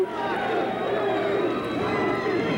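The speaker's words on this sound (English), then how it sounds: "Get the crowd going here." A boxing crowd on its feet at a pro fight, a broad, steady roar of cheering voices that stays loud for the whole stretch, with speech mixed in.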